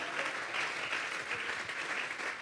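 A church congregation applauds together, a steady, even patter of many hands sustained throughout and heard from some distance, with no voices over it.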